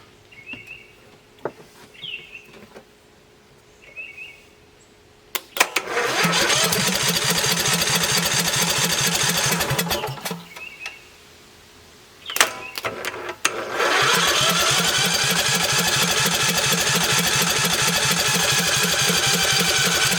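A Briggs & Stratton Vanguard V-twin engine, one that smokes, starts up and runs loud and close, dropping out briefly before restarting and holding a steady roar with rising revs, and faint birdsong is heard in the quiet gaps.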